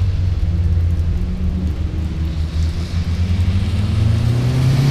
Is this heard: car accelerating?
yes